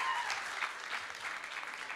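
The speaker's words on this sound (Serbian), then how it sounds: "Tako da veliki aplauz za tebe." An audience applauds a young singer after her performance at a singing school showcase, giving steady, dense clapping throughout a brief stretch with no one speaking.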